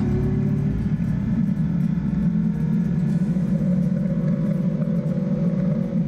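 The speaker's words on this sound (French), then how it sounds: "On est toujours sur un bicylindre de 649 cm3 développant 67 chevaux." A 649 cc twin-cylinder motorcycle engine making 67 horsepower, the same engine as the Z650, runs with a loud steady droning rumble throughout, close up and without voices.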